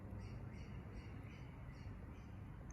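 Rosellas give faint, repeated high calls in a rhythmic series, sounding distant and thin against steady broadband outdoor noise.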